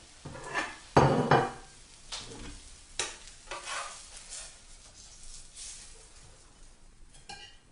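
A plate is fetched and handled in a home kitchen after an omelette is cooked: a few clinks and knocks of dishes and cutlery, the loudest near the start, then quieter scraping and rattling, close and fairly faint.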